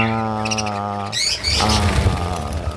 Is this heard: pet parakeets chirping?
yes